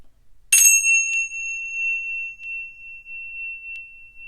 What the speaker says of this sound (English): do a deep breath in when we hear the bell and then breathe normally until we can't hear the bell anymore